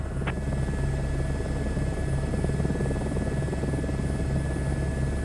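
An Airbus helicopter in Microsoft Flight Simulator 2024 taxiing to parking at Queenstown, its steady rotor drone and rhythmic blade thump running continuously at close range without speech.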